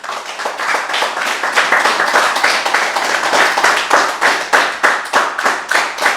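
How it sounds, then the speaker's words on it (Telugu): Steady, rhythmic hand clapping from a group, loud and close, continuing without a break. "మనందరికి ఒకసారి గట్టి క్లాప్ చేద్దాం"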